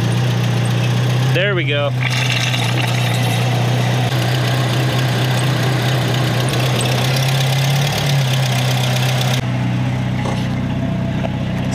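An off-road truck engine cranks with a brief whine, catches and settles into a loud, steady idle with a deep rumble and some knocking, close to the listener, while a person speaks briefly.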